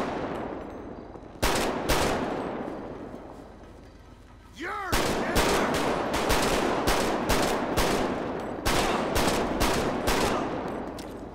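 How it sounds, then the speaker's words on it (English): Pump shotgun fired in a video game, loud separate blasts with gaps between them and a ringing whine after one shot, voices talking over the shooting. "That gun sounds good."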